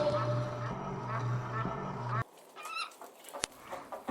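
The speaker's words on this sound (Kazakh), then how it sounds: "Жарайсыңдар, бұл тауық." A chicken clucks within dense, busy farmyard noise, then makes a few sparser, quieter clucks.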